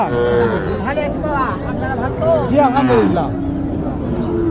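Cattle, bull calves at the Matazi cattle market in Naogaon, give several drawn-out moos close by over a busy background of crowd babble and voices.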